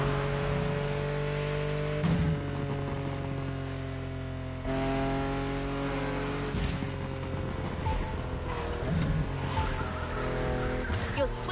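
Souped-up custom race cars in a video game run through winding mountain passes, with a steady, loud engine drone and shifting revving tones, punctuated by occasional tire squeals.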